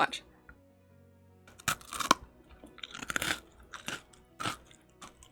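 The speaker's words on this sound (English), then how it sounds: "That was me chewing one of the pods." Crunchy chewing of a chocolate pod with a biscuit base, close to the microphone: an opening bite, then a burst of loud, irregular crunches and mouth sounds after a short lull.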